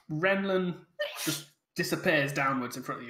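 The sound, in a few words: sneeze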